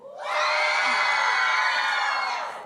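A large crowd at an evening event screams and cheers for Christmas in one sustained, loud roar of shouting voices that swells quickly, holds, then slowly tapers.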